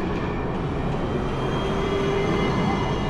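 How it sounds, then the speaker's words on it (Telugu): A small light rail transit train runs on tracks laid along a road, making a steady, fairly loud rumble with a faint tonal whine partway through, continuous and with no voices. "ఇవి వచ్చేసి LRT అంటారు, లైట్ రైల్ ట్రాన్సిట్ అని."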